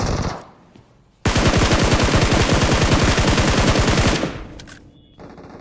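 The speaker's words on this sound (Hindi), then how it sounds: "मुझे काफी देर से भाई बाहर में गोलियां चलने की आवाजें आ रही होती हैं।" Sustained automatic gunfire in the BGMI battle royale game, a rapid burst of shots lasting about three seconds, loud and close, after a quieter stretch and fading into softer ambient game sounds.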